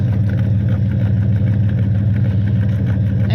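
Close by, a crossover's engine runs rough after freezing rain, giving a steady low rumbling drone with a faint clattery edge and no talking.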